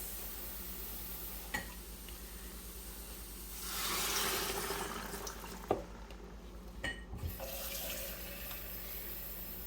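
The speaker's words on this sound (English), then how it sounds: "Let's go ahead and add some water to this." Water being poured into an Instant Pot while making curry gives a quiet, short pour that swells briefly near the middle. A few soft clinks and taps come before and after it against a faint background hiss.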